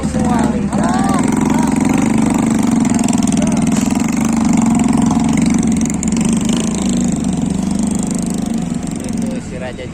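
A palm oil truck drives out past a stretch of road being concreted, its engine a steady, loud mid-range drone that holds throughout while someone talks over it.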